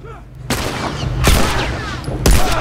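Gunfire in The Last of Us Remastered on PS4: three loud, sharp shots spaced about a second apart, each with a booming low end and a short ringing tail, heard alone with no voices.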